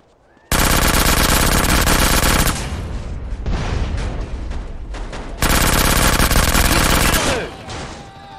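Loud sustained gunfire in GTA San Andreas, two long automatic bursts with quieter scattered shots between them, a voice briefly talking over the action.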